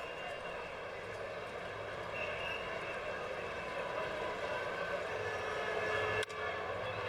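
A helicopter drones steadily overhead above a baseball stadium during a World Baseball Classic game between the Dominican Republic and the Netherlands, a continuous distant engine roar mixed with ambient crowd noise.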